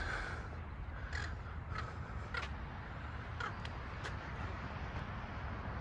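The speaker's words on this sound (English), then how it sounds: "there's a crow in the shot" Several crow caws ring out at a stadium car park, spaced irregularly over steady outdoor ambience and distant traffic hum, moderately far and not very loud.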